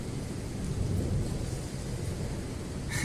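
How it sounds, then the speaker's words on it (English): Summer rain, with hail on the day, falls in a continuous heavy hiss with a low rumble underneath, close and even throughout, with no voices. "It is raining."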